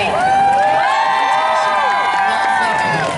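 A crowd at the IJSBA World Finals jet ski freestyle event cheers and shouts loudly, with whoops rising and falling over a dense, continuous roar.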